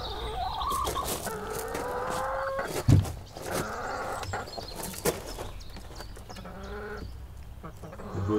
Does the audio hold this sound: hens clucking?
yes